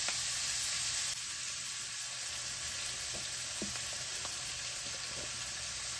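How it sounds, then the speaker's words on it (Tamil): Cassava curry sautéing in a pan, a steady soft frying sizzle that runs throughout with a few faint stirring scrapes, no talk. "இப்போ வதங்கட்டும்."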